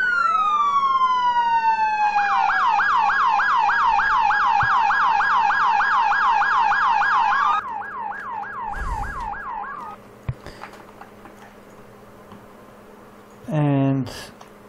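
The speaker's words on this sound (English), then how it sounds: "We can add a siren just by clicking there, and they are fully functional sirens." Functional sirens on an IMV Rhino driveable vehicle model cycle through loud, rapid wailing and yelping patterns, switching modes partway, then stopping before a brief rising electronic tone near the end.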